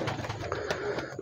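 A star-breed pigeon coos close by in a few soft, rolling throaty notes over a short moment.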